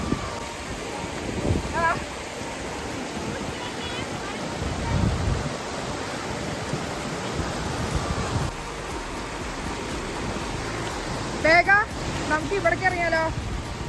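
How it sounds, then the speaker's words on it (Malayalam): Steady, dense hiss of heavy rainfall throughout, with people talking faintly underneath now and then. "നല്ല മഴയാണ് കേട്ടോ"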